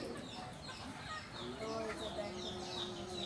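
A chicken clucks in short bursts through the middle of the clip, moderately close, while people talk over it.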